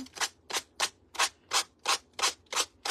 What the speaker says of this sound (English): Just sand this off. It sands off really easy.